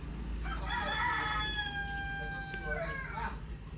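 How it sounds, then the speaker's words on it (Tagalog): A native rooster crows once in a long, drawn-out call at moderate distance, with a second shorter crow near the end, over a low background hum and faint rural noise. "Nako, mga native na manok yan, oh."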